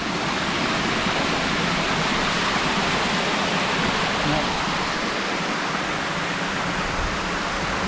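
A steady, dense roar of falling water, loud and unbroken throughout, like standing near a waterfall.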